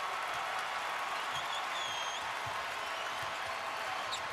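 A basketball arena crowd at a Boston Celtics home game against the Chicago Bulls roars and cheers, with sustained broad noise, scattered clapping and a bouncing ball, while a voice speaks faintly underneath.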